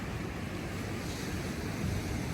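Incoming tide washes onto a beach at Sabang, Palawan, a steady, continuous roar of surf with wind noise buffeting the microphone throughout and no voices.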